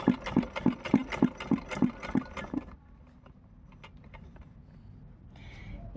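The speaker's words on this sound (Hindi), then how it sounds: "इस तरह से इसको इस पर सिलाई लगा लेंगे।" A sewing machine stitching lace onto a layer-cut frock fires a quick, even run of needle strikes for about two and a half seconds, then stops, leaving a quiet room.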